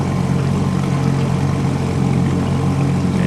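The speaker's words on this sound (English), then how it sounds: "And we just love running this engine." A 1957 Evinrude Fleetwin outboard motor runs steadily on a boat with two people aboard, a continuous close, loud drone with a low hum that holds even throughout.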